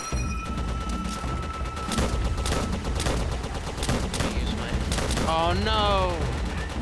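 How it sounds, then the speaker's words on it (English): Dense bursts of rifle and machine-gun fire crackle in the Call of Duty: World at War video game, with loud repeated shots and impacts while players talk and shout excitedly over the battle. "Oh my god, they're shooting through these boxes."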